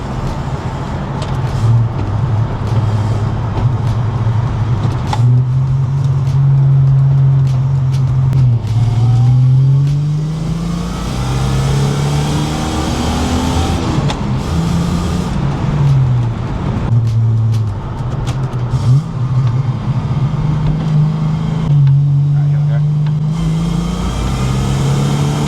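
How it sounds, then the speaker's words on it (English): Holden VS Commodore with an Ecotec V6 on a road test, engine note rising and falling through several accelerations and gear changes, loud and close from inside the car with steady road noise underneath. "It's a healthy little Ecotec."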